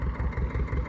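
A tractor's engine runs steadily at idle during pipeline work, a continuous low rumble with a faint rhythmic pulse, close and fairly loud, with no talk over it.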